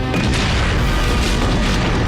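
A newly found weapon is test-fired with a deep, loud explosive boom, a heavy, rumbling blast that fills the whole short stretch with no talk over it.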